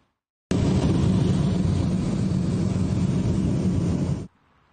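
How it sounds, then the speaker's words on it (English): Cabin roar inside an Alaska Airlines Boeing 737 MAX 9 in flight after a panel blowout, a loud, constant broadband rush that starts abruptly and cuts off just as suddenly. "this is video from inside the airplane minutes after that blowout occurred"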